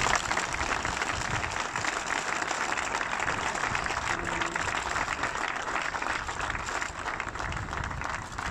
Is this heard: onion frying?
no